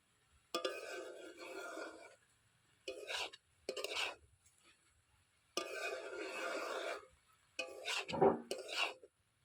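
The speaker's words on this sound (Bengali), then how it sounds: "একটু নাড়াচাড়া করে ঢাকনা চাপা দিয়ে দেবো" A spatula stirs khesari (grass pea) greens in a pan in several separate bursts of close, rasping scraping and rustling, with quiet gaps between them.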